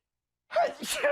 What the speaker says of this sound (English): third sneeze in a row